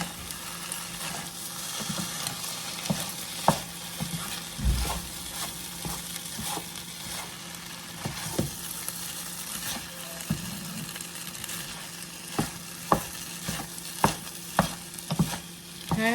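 Pieces of pork stir-fry in a pan with a continuous moderate sizzle, punctuated by scattered clicks and scrapes of a utensil moving the meat, with the sharp knocks becoming more frequent toward the end.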